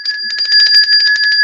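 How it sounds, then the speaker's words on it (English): A bright bell rings in a rapid, even trill for well over a second, loud and close, with a clear metallic tone and no voices. "Ring the bell for yourself."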